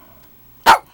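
A small dog gives one sharp, loud bark that stands alone after a quiet moment.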